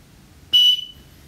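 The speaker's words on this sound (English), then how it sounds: "An audible dog whistle, so that you don't damage your dog's hearing." A single short, sharp high-pitched whistle blast from an audible dog whistle that quickly fades, in an otherwise quiet setting.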